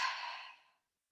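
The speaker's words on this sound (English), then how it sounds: "And then open your mouth, exhale, force the breath out." A single forced exhale pushes out through an open mouth during a yoga breathing exercise, a close breathy rush that starts strong and fades away within a second into silence.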